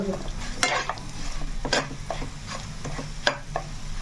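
Bitter gourd spice powder frying in a pan, with a spoon stirring and scraping it in irregular strokes over a steady low sizzle, close and moderately loud.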